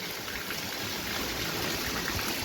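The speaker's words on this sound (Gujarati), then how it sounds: "નદી ફૂલ આવી ગઈ છે, વરસાદ અને સાથે પવન એટલો છે ભાઈ કઈ વાત ના પૂછો" Swollen river in flood during heavy rain with strong wind, a continuous dense rushing roar of water, steady and loud throughout with no talk.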